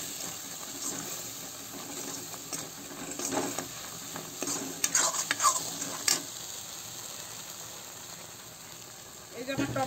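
Tomato paste frying and being stirred in a pan for sambar vada, a steady soft sizzle with intermittent scraping stir strokes, louder bursts in the middle, with some speech at times.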